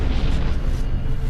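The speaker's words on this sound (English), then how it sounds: "our universe started with a colossal explosion called the Big Bang." A colossal explosion sound effect representing the Big Bang, a dense, sustained low rumbling boom that stays loud and steady throughout with no speech.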